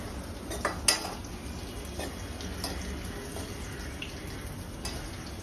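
Carrots and mixed vegetables tipped into a pan and stirred in a home kitchen, a few sharp utensil clinks against the pan over a steady low rustle and faint sizzle, no talking.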